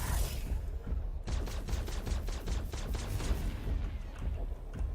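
Gunfire in the video game Aftercharge, a rapid burst of about a dozen evenly spaced shots fired in quick succession, moderately loud over a steady background hum.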